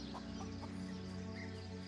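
Chickens cluck at a hen house in a fantasy role-playing game. A few soft clucks sit over a steady, dense backdrop of game ambience, with no speech.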